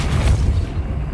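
A Depulso spell is cast in the video game Hogwarts Legacy, a single loud, deep magical blast that booms at once and then fades into a rumbling tail.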